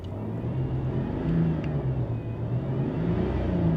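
A 1995 Pontiac Bonneville with a 3.8 engine revs under added throttle, a steady close low rumble and whir that swells slightly and holds without breaking up.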